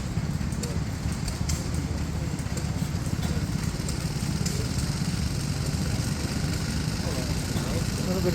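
A couple of small Briggs & Stratton engines running a centrifugal pump at a historic machine restoration rally, a steady rapid chugging putter running throughout, with people talking nearby.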